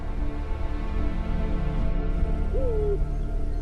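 A Eurasian eagle-owl calls at night, a single short, low hoot rising and falling, heard clearly over a steady background hum of water and night ambience.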